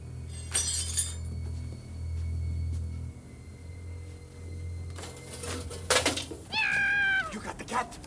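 A cat meows in a rising-and-falling wail near the end, after a low rumble and a burst of clattering, crash-like noise.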